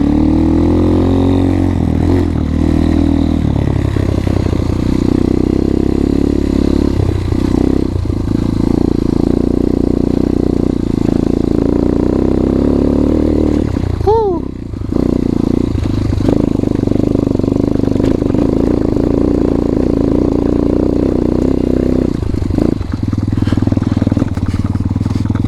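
An X-Pro Titan motorcycle ridden along a trail, its engine loud and close, rising and falling with throttle changes, steady rumbling throughout with brief dips and surges.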